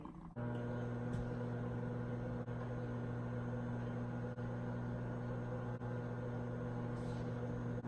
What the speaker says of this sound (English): I'm gonna pop this in the microwave for like, I don't know, 15 seconds.